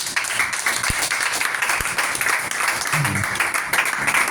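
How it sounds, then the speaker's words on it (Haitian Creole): A church congregation applauds in a steady, dense patter of many hands clapping, filling the room continuously while a voice speaks over it. "Applaudis l'Esprit de Dieu."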